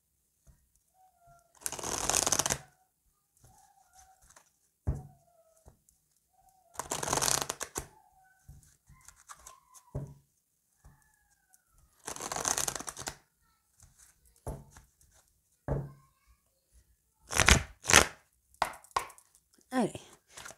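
Emerald secret oracle cards are shuffled in several bursts of quick riffling, each lasting a second or so, separated by someone talking and by soft taps as cards are laid down.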